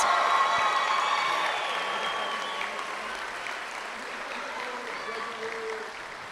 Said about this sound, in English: how about one more big round of applause for our 2026